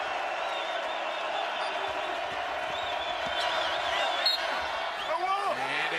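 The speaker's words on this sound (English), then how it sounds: "Here comes the crowd." A college basketball arena crowd at a UNLV versus New Mexico Lobos game keeps up a steady, far-off roar of cheering, with a commentator talking over it.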